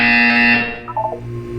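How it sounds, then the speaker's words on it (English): A loud, harsh electronic buzzer from the video game Portal 2, a steady tone lasting about half a second before fading, followed by faint brief electronic chirps. "You will hear a buzzer."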